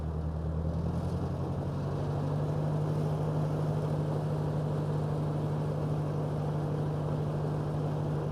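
A Ford NAA Jubilee tractor engine idles with a steady low drone and slowly picks up as the throttle is run up, heard close and without talk.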